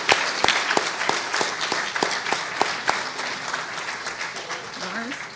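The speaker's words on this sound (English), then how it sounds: "And I just think we need to provide a round of applause for Lawrence and Paul and everybody else." Audience applause for speakers at the end of a conference panel, a steady round of clapping with a few sharp individual claps standing out, and a voice starting to talk faintly toward the end.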